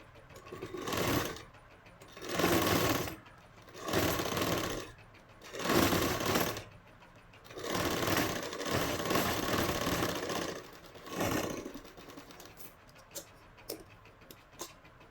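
A sewing machine stitches a blouse lining in repeated runs of rapid, buzzing stitching separated by short pauses, close and loud, ending with a few light clicks.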